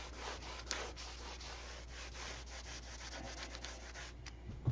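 Wood being sanded by hand gives a continuous, fairly quiet gritty rubbing with faint repeated strokes and no voices.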